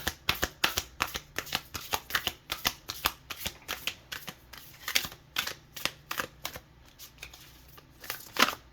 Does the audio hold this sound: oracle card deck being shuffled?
yes